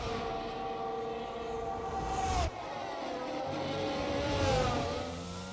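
An F1 race car engine in the F1 22 video game, a high-pitched whining roar that rises and falls through gear changes, with a sharp downshift midway and another car close behind, steady and loud throughout.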